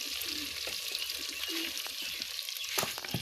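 Tadka of spices and dried red chillies sizzles steadily in hot oil, a close, continuous crackling hiss with a few sharper pops toward the end.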